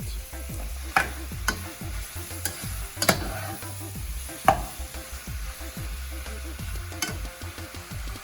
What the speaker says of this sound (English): And now we're going to cook this ground beef until it's about brown in color